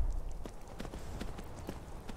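Horse hooves in the video game Skyrim VR clopping in a quick, uneven rhythm of soft thuds, fairly close over low background noise.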